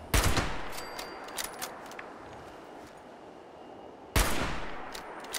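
Gunfire in the Fallout 76 video game: a sharp burst of shots at the start and another at the end, with a few faint distant pops and quiet ambience in between.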